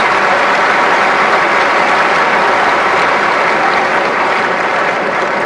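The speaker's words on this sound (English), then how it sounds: "Warm applause then" Wimbledon Centre Court crowd applauding two champions before a tennis match, dense sustained clapping from a large audience, loud and even throughout with no voices rising above it.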